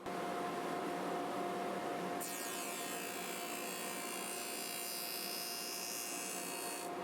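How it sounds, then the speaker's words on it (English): A saw cuts wooden tenons in a workshop with a continuous, loud, rasping cut that holds steady throughout and brightens in tone partway through, with no talking. "Cutting tenons this way really is fun and super accurate."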